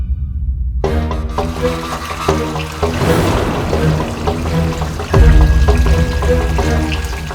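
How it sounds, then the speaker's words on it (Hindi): Clean water pours from a tap in a city otherwise plagued by black water, a steady splashing rush that swells louder toward the end, layered over music. "अल्लाह का शुक्र है कि यहाँ साफ पानी आ रहा है"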